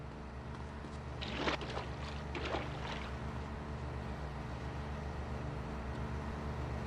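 A speedboat engine in GTA Vice City drones steadily throughout, with a brief louder surge of water and motor noise near the start.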